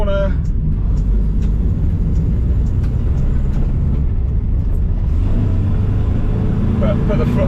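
A 1971 Datsun 510 barn-find car, lowered, driving along a fast stretch of road, with a loud steady engine and road rumble heard from inside the cabin and faint voices beneath.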